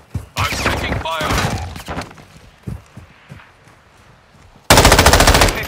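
Gunfire in the video game Call of Duty Modern Warfare, with dense rapid bursts at the start, scattered shots and footsteps in the middle, then a sharp loud automatic burst at the end, mixed with voices.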